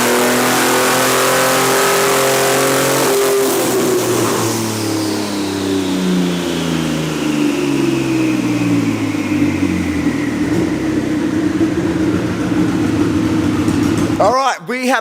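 A twin turbo Triton engine revs hard on a dyno, a loud sustained roar with harmonics climbing and then sliding down as the run winds off, ending in a brief clatter.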